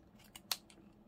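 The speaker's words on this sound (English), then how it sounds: "You just get the scissors." Scissors snip through paper while making a junk journal from envelopes and bags, a couple of short crisp cuts with one sharp louder snip, close and alone in a quiet room.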